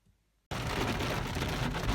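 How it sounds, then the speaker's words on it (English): Heavy rain starts pouring down abruptly after a brief quiet moment in a forest where a Ford Focus got stuck, then holds as a loud, dense, continuous hiss with a low rumble underneath. "it's pouring rain"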